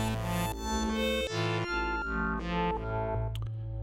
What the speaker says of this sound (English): this is just the Minilogue.